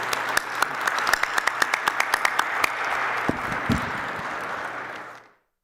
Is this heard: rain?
no